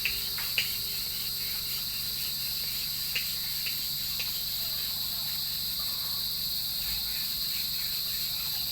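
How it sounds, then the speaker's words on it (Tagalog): Crickets chirp continuously in a dense high-pitched drone, with a few faint clicks and knocks scattered through the steady outdoor night ambience. "Pakinggan natin ang huni ng kuliglig"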